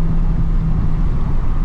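Toyota Supra engine loud and close as it downshifts, a steady deep drone with engine tone throughout, voices faintly present.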